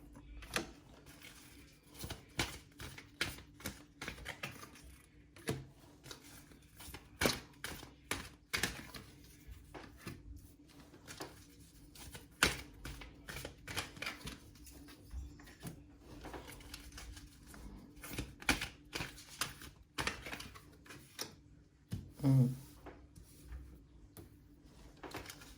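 Tarot cards taken out and handled at close range: a scattered series of soft, crisp clicks, taps and slaps against a quiet background, irregular in rhythm, with no one speaking.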